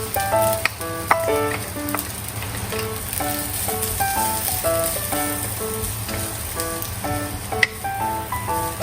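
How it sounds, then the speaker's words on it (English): Onion and green onion whites stir-fry in a pan with a steady sizzle and crackle, mixed with scattered higher-pitched clinks over a continuous frying hiss. "Stir fry onion and onion white until fragrant."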